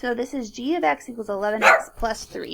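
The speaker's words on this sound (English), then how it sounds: "Sorry about my dog." A pet dog at home barks and yips in short bursts close by, mixed in with a person speaking steadily over it.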